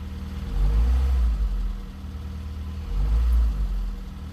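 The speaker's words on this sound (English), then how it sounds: "We're idling here, not even warm yet." A car engine idling with a steady low rumble that swells briefly twice, close by, no voices.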